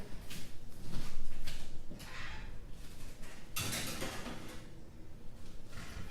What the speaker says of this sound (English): All right, putting her in the oven.